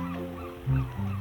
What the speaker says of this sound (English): A seagull.